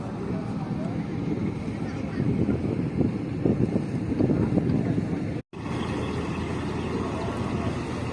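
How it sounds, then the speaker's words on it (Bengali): A small motor launch's engine rumbles steadily under heavy wind buffeting, with a brief dropout partway through. "এই ছোট্ট লঞ্চটা এখান থেকে যাচ্ছে নারায়ণগঞ্জ"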